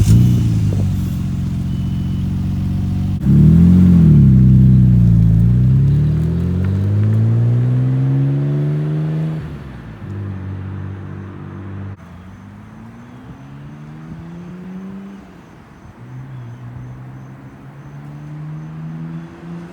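A Nissan R32 GT-R on a test drive, its engine droning loud and close as it revs up through rising sweeps, shifts, settles, then climbs again with no talk over it.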